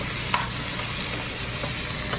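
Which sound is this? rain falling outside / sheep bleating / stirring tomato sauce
stirring tomato sauce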